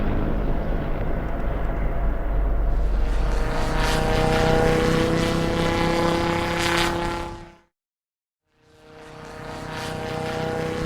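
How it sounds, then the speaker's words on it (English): A large F-5 flying boat passes overhead, its propeller engines giving a loud continuous drone that holds for about seven seconds, cuts to silence briefly, then resumes at a similar level. "A large F-5 flying boat is flying leisurely in the sky."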